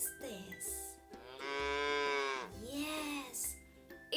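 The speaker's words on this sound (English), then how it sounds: "it's a cow." A cow moos in several long, drawn-out lowing calls, fairly close and clear over a faint background, with one extended bellow in the middle and a shorter one after.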